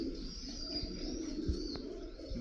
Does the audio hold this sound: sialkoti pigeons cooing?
yes